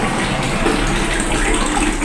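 Water pours steadily into a container, a loud, close, continuous rushing gush with no pauses.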